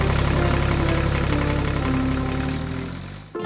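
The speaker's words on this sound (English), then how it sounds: "its engine purring steadily." Zetor tractor engine running steadily, a loud close diesel drone with a constant low throb and faint knock that holds evenly for a few seconds before briefly dipping near the end.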